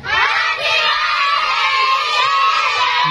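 Someone shouts loudly at a birthday party amid a crowd of other children yelling and cheering, a sustained, close, high-pitched din lasting the whole moment.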